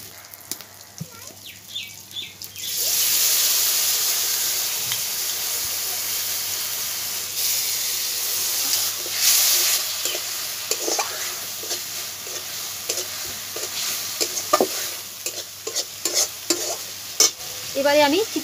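Splash of water hitting frying ginger-garlic paste, cumin powder and Kashmiri chili powder in a hot pan, bursting into loud hissing steam and sizzle, then settling into bubbling with sharp stirring clicks and scrapes.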